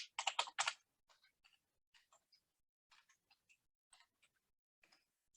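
Password entered on a computer keyboard: a quick burst of several loud key clicks at the start, then sparse, lighter taps spread out over the next few seconds, close and alone with no talking.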